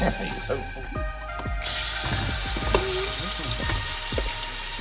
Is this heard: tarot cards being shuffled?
no